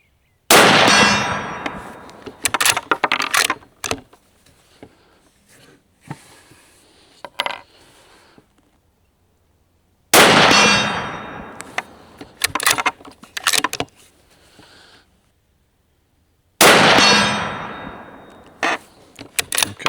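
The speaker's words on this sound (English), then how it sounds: "Let's go ahead and shoot them now and see how this behaves when the barrel's starting to warm up. We'll just shoot 6 right back to back." A Stevens 334 rifle fires three loud, sharp shots spaced several seconds apart, each followed by clattering metallic ringing and a decaying echo, with near silence between them.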